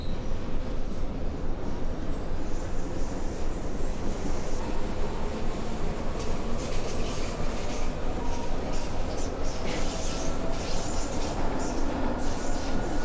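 A U-Bahn subway train in the Omsi 2 video game pulls into a station, giving a steady loud rumble of wheels and car noise with a few faint high squeals throughout.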